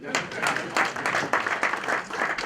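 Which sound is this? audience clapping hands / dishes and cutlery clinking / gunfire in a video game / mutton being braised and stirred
audience clapping hands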